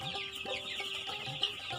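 A crowded farm brood of about 550 Tiger breed chicks keeps up dense, continuous high chirping and peeping, heard close and steady for a brief moment.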